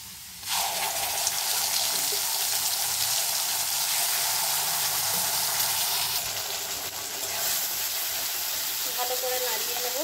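Spice paste sizzling in hot oil with nigella seeds and raw onion, a loud steady frying hiss that swells suddenly at the start and holds throughout, with a few faint clinks near the end.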